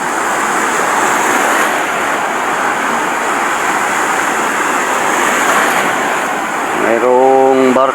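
Typhoon Ada's storm waves crash along the shore in a continuous heavy roar mixed with wind, and a loud, steady tonal horn-like sound joins in near the end.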